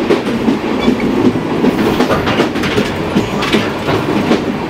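A train pulls out of Darshana railway station, its wheels and cars rumbling with a steady rhythmic clatter, loud and close throughout, with no voices.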